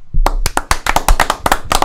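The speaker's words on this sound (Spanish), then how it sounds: "Un aplauso para recibir a don Alex El Campo." A crowd applauds to welcome a guest onto a comedy talk show, with loud, sharp claps in a steady, fairly even rhythm close by for the whole moment.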